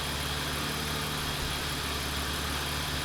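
A car engine idles steadily and evenly after repairs with new spark plugs, gaskets, hoses and CCV system, a constant close mechanical drone with no talk.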